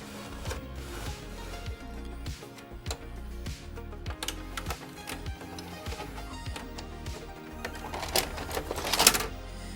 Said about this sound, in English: eject the tape,